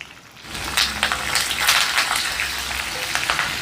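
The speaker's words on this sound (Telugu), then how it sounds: "పోపు రెడీ అయిపోయిందండి" Tempering of garlic cloves, dried red chillies, curry leaves and asafoetida hits hot oil with a sudden loud crackle, then keeps spitting and sizzling vigorously, close and unbroken.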